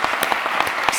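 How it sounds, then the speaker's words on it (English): An audience at a conference on UX and design in public services applauds in a steady wash of dense clapping, continuous and moderately loud throughout the short stretch. "please, huge applause to our"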